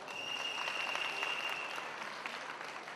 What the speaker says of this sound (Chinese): 掌声感谢爱康公司